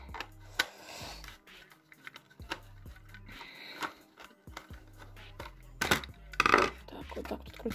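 A Toyota GT86 scale model car's plastic packaging is unscrewed with scattered small clicks, taps and plastic rattles close to the mic. Faint speech can be heard between the handling noises.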